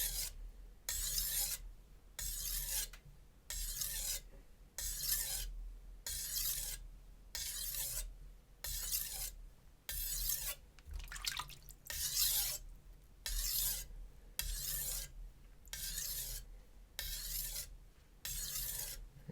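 A Zwilling chef knife is drawn across a Japanese whetstone in steady, evenly spaced rasping strokes, about fourteen close gritty scrapes with short pauses between them, with no talking.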